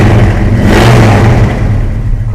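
A 1966 Chevy Chevelle engine blips up to about 2,000 RPM with a loud, deep rumble, then drops back toward a steady idle, heard close and alone.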